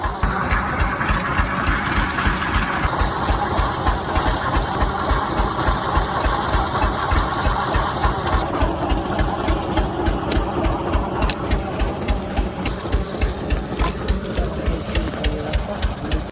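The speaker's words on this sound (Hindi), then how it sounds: "एक्सीलेटर कम है, तो प्रमोद भाई जा रहे हैं बढ़ाने के लिए" An Eicher 242 tractor engine runs steadily while driving a 6x4x4 PTO water pump, a loud close diesel chug with a regular rapid knocking beat and a shift in pitch partway through.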